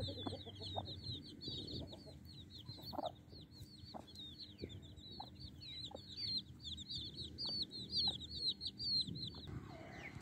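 Hens and their chicks cluck in a farmyard during cold weather, soft repeated clucks and bursts of high peeping running continuously over a low background rumble.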